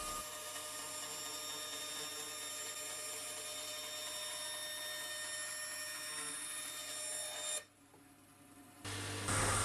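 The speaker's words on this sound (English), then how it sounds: "And cutting it out now on the bandsaw." A bandsaw whines steadily cutting a wooden cutting board pattern, with a constant high-pitched hum, then briefly quiets before the motor noise returns.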